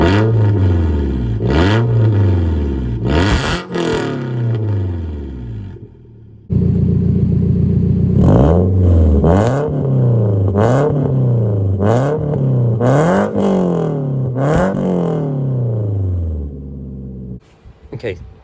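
A 2004 Toyota Camry with its exhaust removed revs hard again and again, each loud, raspy rise and fall of engine pitch close by, with a brief lull partway through before another run of sharp revs.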